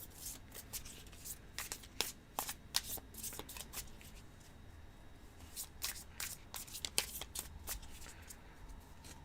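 Tarot cards are riffled and shuffled by hand during a zodiac reading, a run of crisp, close flutters and snapping bursts repeated in uneven clusters, fairly quiet, with no talking.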